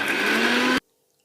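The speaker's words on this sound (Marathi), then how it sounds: "मिक्सर चालू करायचा आणि बारीक वाटण करून" A kitchen mixer grinder whirs at full speed for under a second, grinding a fine paste for a green-pea snack, then cuts off abruptly into silence.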